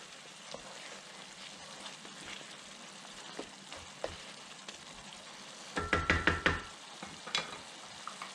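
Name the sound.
stirring salt and pepper into picadillo in pan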